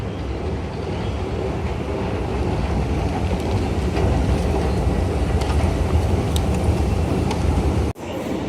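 Ride on a London Underground train, a loud steady rumble and roar of the carriage in motion with faint squeals and clatter, close and continuous, with a brief dip near the end.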